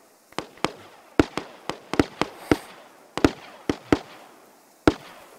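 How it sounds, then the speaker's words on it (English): Distant gunfire crackles across a battlefield in the video game Squad, a dozen or so sharp single shots at irregular intervals, sometimes in quick pairs, with no talk over them. "That's where those guys keep shooting"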